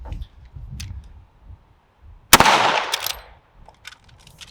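A 45-70 lever-action rifle fires a single 405 grain load through a Comet muzzle brake: one sharp, loud, close blast with a short ringing tail, framed by quiet handling clicks before and after.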